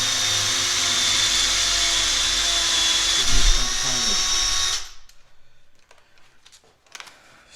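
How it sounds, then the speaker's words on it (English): Power drill boring a small hole in an air bag bracket for a 1983 El Camino, a loud steady whine for almost five seconds with a brief bump in load, then cutting off to quiet shop clatter. "So I drilled another little hole"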